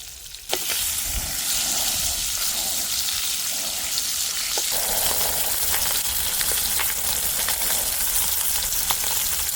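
Steady loud sizzle of fish frying in oil with only salt at a solo riverside camp, continuous crackling hiss that begins abruptly after a brief knock and holds throughout with scattered pops.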